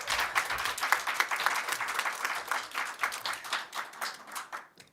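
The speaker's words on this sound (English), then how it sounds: "I think that deserves a round of applause." Applause from an audience at the launch of a South African digital news transformation fund, a steady patter of many clapping hands at moderate distance that thins and fades out at the end.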